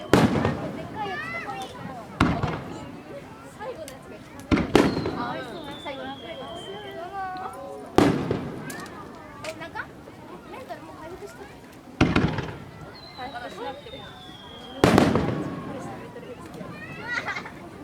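Fireworks burst repeatedly at the Tamano festival fireworks show, about seven loud booms and crackles spaced a couple of seconds apart, with whistling rises and people, including children, talking and reacting between them.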